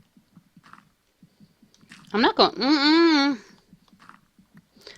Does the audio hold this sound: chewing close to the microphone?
yes